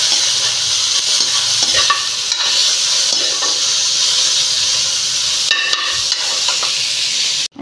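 Chopped vegetables and pork stir-fry in a hot pan for Filipino chop suey, giving a loud, continuous sizzle close by, broken by a few scraping stirs and bursts of crackle.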